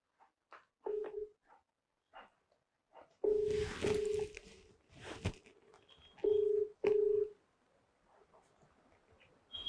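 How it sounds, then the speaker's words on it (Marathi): Series of short electronic telephone dialing beeps, spaced irregularly, with faint clicks and handling noise between them in a quiet room. "लाव फोन त्याला"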